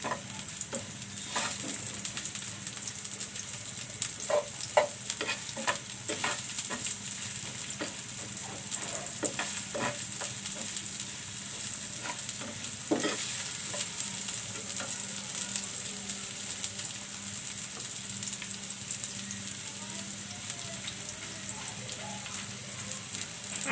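Onions frying in mustard oil in a pan, a soft steady sizzle close by with repeated sharp scrapes and clicks from stirring scattered throughout.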